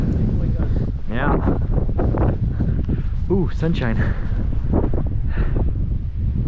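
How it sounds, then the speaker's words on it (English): Strong wind gusts buffet the microphone on a snowy mountain trail while snowshoeing along the Mountain Loop Highway, a steady close roar running beneath people talking. "Oh, that's a big gust."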